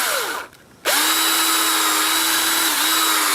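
A power drill bores into a maple tree for tapping, a loud, close whirring whine that drops off briefly and then spins back up steadily for the rest of the run.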